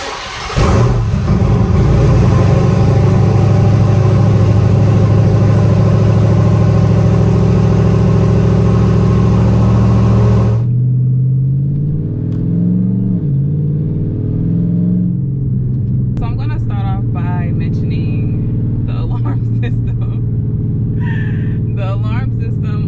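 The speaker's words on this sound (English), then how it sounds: "I'm going to get the car started, we're going to go for a ride" Dodge Hellcat engine running loud and close, a steady idle rumble for about ten seconds before dropping to a lower, shifting drone as the car pulls away, with some light clatter and voice sounds over the engine.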